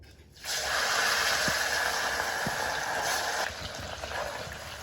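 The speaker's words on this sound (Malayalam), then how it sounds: "അതിന് ശേഷം നമുക്കൊന്ന് വറുത്ത് കോരിയെടുക്കാം" Chicken marinated in spicy chili masala hits hot oil for deep frying, setting off a sudden loud, steady hiss that holds for about three seconds and then eases to a softer sizzle, with no talking.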